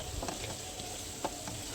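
Tadka tempering sizzles in a frying pan, a steady close hiss of hot oil with faint stirring scrapes running through it, no voices.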